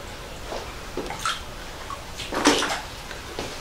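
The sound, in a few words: water flowing out of a small hole in a stone wall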